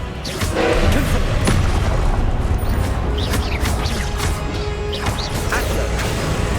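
Confringo fire spell blasts during Hogwarts Legacy gameplay, a dense, loud stretch of booming impacts, crashes and whooshes layered over constant game noise with no talk.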